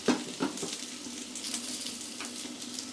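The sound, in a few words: potatoes frying in a pan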